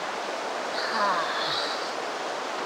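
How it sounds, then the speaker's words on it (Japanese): Steady broadband rush of a small waterfall at a campground, continuous and fairly even, with faint outdoor background. "こっちにちっちゃい滝がありますね、"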